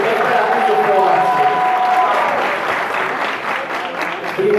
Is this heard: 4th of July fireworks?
no